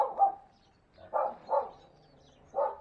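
Dogs bark near a driveway work site: four short, loud barks arrive in an uneven rhythm, with quiet gaps between them.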